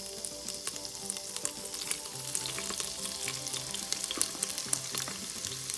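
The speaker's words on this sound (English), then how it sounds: "We just want to saute them a little bit." Mushrooms sauté in an Instant Pot pressure cooker, a continuous close sizzle and hiss with faint scraping of stirring, steady and fairly quiet, with no voices.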